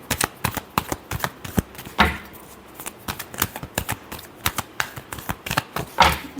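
Tarot cards are shuffled during a love reading: a rapid run of crisp flicks and riffling snaps, close and fairly loud, with a few heavier slaps mixed in and no talking.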